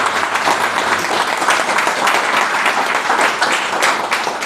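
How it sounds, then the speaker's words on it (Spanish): A church congregation at a Spanish-language service claps loudly and continuously, a dense close wash of hand claps holding at an even level throughout. "¿Cuántos pueden darle un fuerte aplauso al Señor?"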